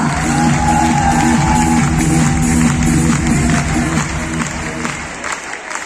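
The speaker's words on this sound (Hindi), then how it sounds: "सबके लिए जोरदार तालियां" A large crowd of about 8000 at a business event claps and cheers in a sustained, dense wash of applause that holds loud before tapering slightly at the end, with a voice faintly over it.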